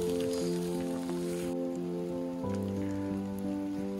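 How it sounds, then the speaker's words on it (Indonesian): Light rain falls steadily on a hiking trail on Mount Merbabu, a soft continuous patter heard close by beneath a sustained tonal hum that runs through the whole stretch. "Sampai di PAL HM12 hujan kembali turun, tapi masih tipis-tipis, belum hujan deras."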